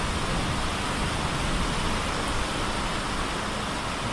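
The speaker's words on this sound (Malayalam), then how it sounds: "വമ്പം മഴയും കാറ്റുമാണ്." Heavy rain driven by strong wind makes a loud, dense, unbroken roar that fills the whole stretch evenly, with no talk over it.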